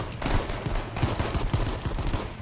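A big gun fires in the survival shooter H1Z1: a loud, close burst of rapid automatic shots, dense and continuous for a couple of seconds, with no talk over it.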